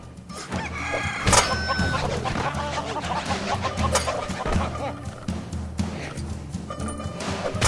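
Chicken clucking and crowing in the LEGO NINJAGO Movie video game, a busy game mix with the bird calls rising over music and effects; a voice speaks partway through.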